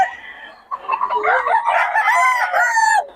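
A rooster at a chicken market in Bocaue crows once, loud and close, a rising then sustained cock-a-doodle-doo lasting over two seconds after a brief cluck.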